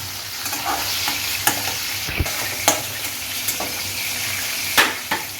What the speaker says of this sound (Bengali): এবার বেগুনটা আর সামান্য কিছুক্ষণ দু তিন মিনিট ভাজা ভাজা হলেই আমি বেগুনটা তুলে নেব